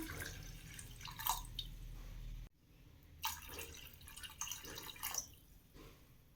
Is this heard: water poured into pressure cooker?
yes